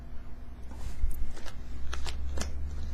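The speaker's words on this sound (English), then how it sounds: "I'm going to shuffle you up some fairy cards" Fairy oracle cards being shuffled by hand during a tarot love reading: several quick, crisp riffling bursts close to the microphone over a low background hum, with no talking.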